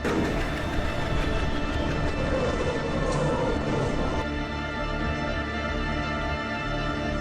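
An oncoming train rolls past with a loud, continuous rumble, steady mechanical tones running through it and a shift in pitch partway through, without any voices.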